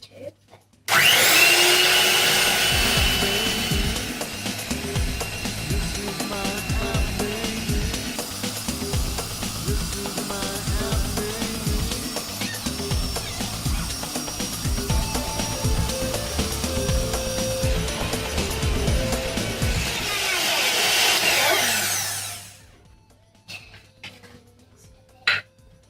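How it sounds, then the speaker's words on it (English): An electric beater whirs continuously while mixing eggs for pancake batter, a loud steady motor drone with a rhythmic churning texture that runs for about twenty seconds before cutting off. "If you have a blender, you can also have a beater."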